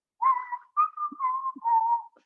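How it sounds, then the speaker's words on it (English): A person whistles a short, wavering tune in a few clear phrases, close and alone. "And then he starts whistling."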